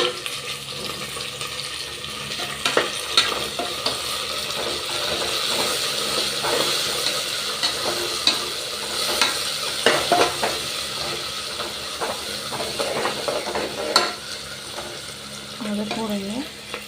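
Onions frying in a pan with mint and coriander, a moderate sizzle broken by repeated scraping and clinking of a spoon as the mix is stirred, a voice speaking briefly over it.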